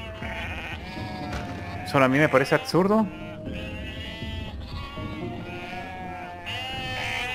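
Sheep bleating in the video game UnMetal, a loud, shaky bleat rising above steady background game music while someone talks over it.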